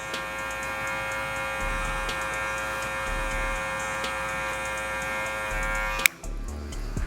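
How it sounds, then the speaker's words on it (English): An electric hair clipper fitted with a 1 guard cuts hair, a steady close buzzing hum with small ticks, ending in a sharp click as it stops near the end. "basically just using the last tooth of the clipper"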